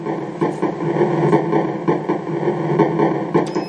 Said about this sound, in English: Okay, there's a train.